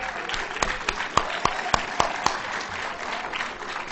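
Applause ripples through a town meeting hall: a loose, steady patter of many hands, with several sharper, closer claps standing out at regular intervals in the middle, fairly moderate in level.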